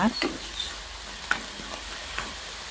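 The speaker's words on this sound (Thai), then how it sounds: "อันนี้เฮียเขาจะผัดแห้งๆใช่ไหมคะ ผัดจนกว่าจะแห้งเนาะ" Pork stir-fried dry in a wok with mushrooms and sauce, cooking for rice porridge: close, continuous sizzling broken by several sharp scrapes and clacks of a spatula against the pan, with no talking.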